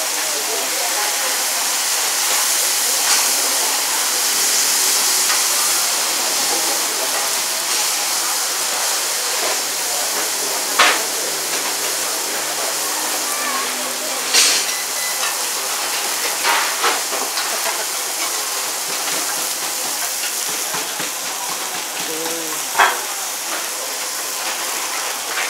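A steady, loud sizzle of a pork chop frying in butter and garlic fills the clip, a continuous hiss with occasional pops and clatters.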